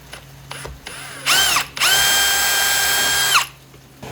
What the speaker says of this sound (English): this is where I'm gonna use my 1/8 inch drill bit to pre-drill this hole right here